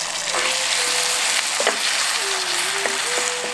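Shallots frying in a pan with hand-squeezed tomato for a veg fish curry make a loud, constant sizzle, with faint whistling tones drifting over it.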